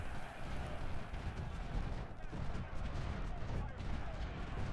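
Artillery booming in the Civil War strategy game Ultimate General: Civil War at Malvern Hill, repeated rumbling cannon blasts rolling over one another in a dense, continuous barrage of distant gunfire.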